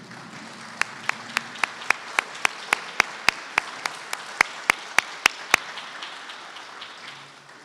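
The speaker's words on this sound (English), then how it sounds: "would you please stand for a second, and we'll give you a quick round of applause" Brief audience applause for Wells Fargo employees standing at a pitch event: a thin round of clapping with a few sharp, evenly spaced claps standing out close by, fading off after about six seconds.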